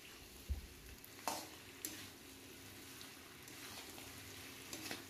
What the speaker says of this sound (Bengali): এবার আমি মাংসটাকে 6 থেকে 7 মিনিটের জন্য লো হিটে খুব ভালো করে আবারও কষিয়ে নিচ্ছি।